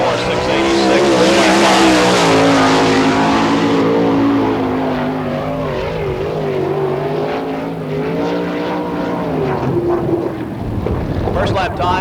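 A sprint car laps a dirt oval at an All Star Circuit of Champions Speedweek race in Barberville, Florida, its engine a loud, steady roar that rises and falls in pitch through the turns, with an announcer talking over it.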